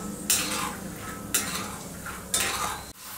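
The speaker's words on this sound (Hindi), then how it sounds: "मूंगफली को अच्छे से हमें तल करके हल्का ब्राउन करना है।" Peanuts frying in oil in a kadai for chiwada, with three bursts of stirring and scraping against the pan at even intervals over a steady close hiss of hot oil, no voices.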